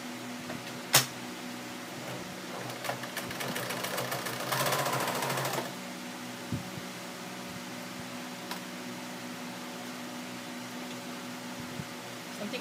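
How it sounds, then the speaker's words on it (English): A sewing machine stitches a line about half an inch in on old denim jeans, a brief low whirring burst over a steady background hum, with scattered faint clicks. "So on this part, you're going to sew a stitching line in about a half an inch."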